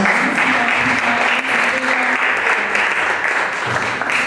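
Congregation applauding in church, dense steady clapping that fills the space at a constant loud level throughout.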